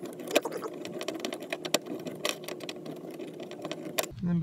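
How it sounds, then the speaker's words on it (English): A tool works the bolts holding a car's license plate, giving a steady run of close, quick mechanical ticks and clicks with a few sharper knocks and a low rumble near the end. "and just tighten these up"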